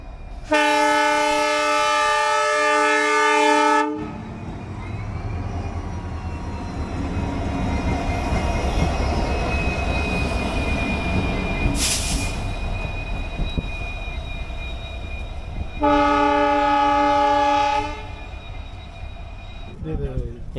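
Train locomotive reversing to couple on a desert line in Rajasthan: long blasts of a horn open and recur near the end, with rumbling, squealing wheels and faint voices in between.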